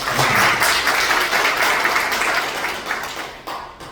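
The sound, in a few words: audience applause for bank officials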